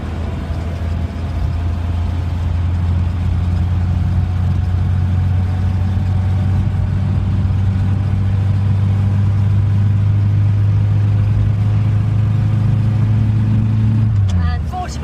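A 1098cc Morris Minor Traveller with an HS2 carburettor and 4.2 differential drones steadily as it accelerates through the gears, its engine hum loud and continuous before dropping away at the end, with a voice talking over it.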